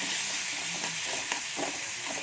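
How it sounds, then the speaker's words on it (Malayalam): Tomatoes sizzle steadily while being sautéed in a pan for egg curry, a close, continuous frying hiss with faint stirring scrapes. "നന്നായിട്ട് വഴറ്റിയെടുക്കണം"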